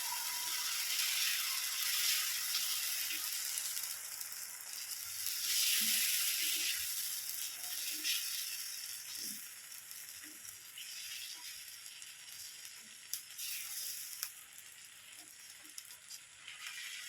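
Tomato dosa batter sizzles on a hot dosa pan, a steady bright hiss that swells and eases over the span, with a few soft taps and scrapes.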